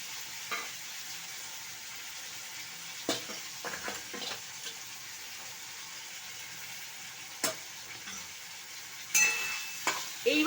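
Potatoes frying gently in oil while a spice gravy of cumin, turmeric and chilli powder cooks for a fish curry, a low continuous sizzle with sparse stirring clicks and scrapes, quiet and without voices.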